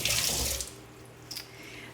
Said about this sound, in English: So let me wash my hands just one moment.